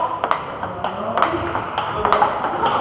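A ball is struck repeatedly during coaching practice, a rhythmic series of sharp pings roughly every half second, close and clear over light background noise.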